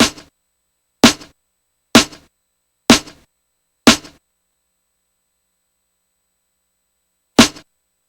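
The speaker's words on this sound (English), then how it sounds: "it's designed to fold snare samples like this one into the same shape as what you would get if you were synthesizing a 909 clap" Snare sample folded into the shape of a synthesized 909 clap: five sharp, evenly spaced claps about a second apart, a pause, then one more, each crisp and dry with a quick decay, loud and alone.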